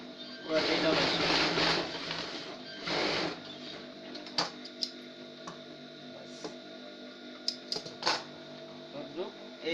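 A sewing machine double-stitches the side seam of a salwar in two short whirring runs, followed by scattered sharp ticks and clicks, with a voice talking alongside.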